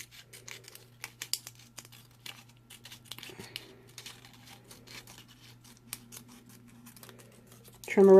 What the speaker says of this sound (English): You just cut up to the center